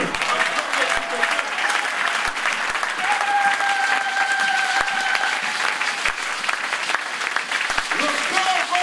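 A church congregation applauds loudly and continuously, dense clapping filling the room while a voice speaks over it.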